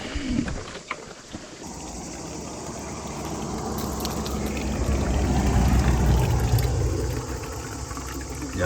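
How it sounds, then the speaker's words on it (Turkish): A weak spring trickles in a canyon in the Munzur area. The steady, close, hissing wash of flowing water builds slightly over several seconds, with some wind noise across the microphone. "Yalnız su da o kadar az akıyor ki"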